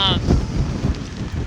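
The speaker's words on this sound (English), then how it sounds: "It's very windy up here." Strong wind buffets the microphone on the high bow of a World War II cargo ship, a rough, gusty low roar with brief louder puffs throughout.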